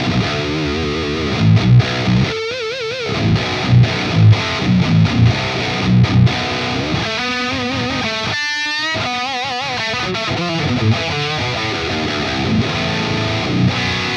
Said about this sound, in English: drive that amp a bit harder, get more distortion out of it.